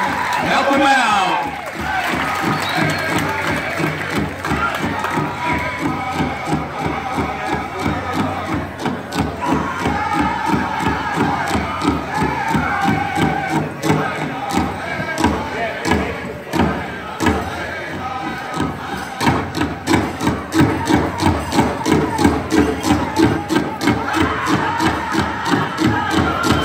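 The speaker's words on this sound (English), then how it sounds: "Let's give these ladies a big round of applause." Crowd at the all-ages Fancy Special dance of the 2016 Muckleshoot Sobriety Powwow, with steady clapping and scattered whoops running throughout, loud and close, under an announcer's voice.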